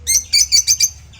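Bright, high-pitched bird chirps in quick bursts, about five close together, then a brief pause and one more starting at the end.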